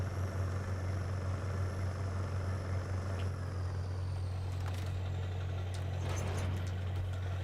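A customized truck in SnowRunner idles with a steady, deep low rumble that holds unchanged throughout, close and moderately loud, with faint higher mechanical hisses and ticks drifting in over the engine drone and nobody talking.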